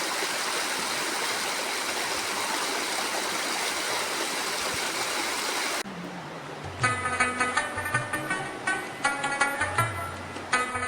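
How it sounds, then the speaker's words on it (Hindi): A steady rush of mountain spring water flowing close by fills the first half, then fades under a separate stretch of patterned, tonal sound with light clicks. "रास्ते में हमें ये बहुत ही खूबसूरत चश्मा मिला है"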